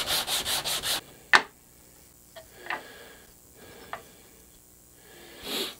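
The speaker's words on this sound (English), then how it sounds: "I'll take some 80 grit and we'll creep up on that line with the sandpaper" An electric guitar body is sanded by hand with 80 grit sandpaper on a sanding block: a run of five quick, close rubbing strokes, then scattered softer scrapes and taps in a quiet room, with one last rub at the end.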